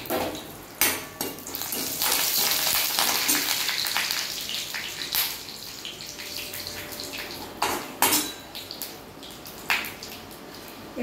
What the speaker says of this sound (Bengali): প্রথমে আমি আমন্ড আর কাজু ভেজে নেব